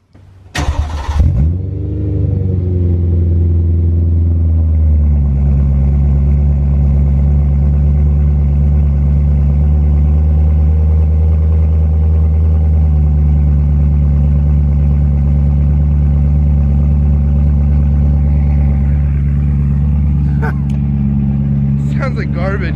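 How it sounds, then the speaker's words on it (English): A BMW M3 with a Valvetronic engine starts up and settles into a steady, loud, deep idle running on only its new exhaust mid pipe, with a brief burst at startup and a constant rumble lasting throughout, heard alone without talk. "do we start it up with just the mid pipe?"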